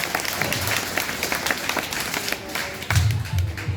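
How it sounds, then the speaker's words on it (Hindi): Audience applause at an open meeting in Maneshar, Gurugram: a dense, steady wash of many hands clapping at once, moderately loud, with a brief swell near the end. "अभिषेक जी के लिए जबरदस्त तालियां"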